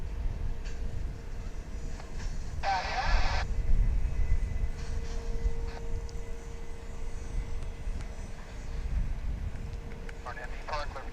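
Airliners at DFW International Airport, with a low steady roar of jet engines and wind near the runway under radio talk from air traffic control.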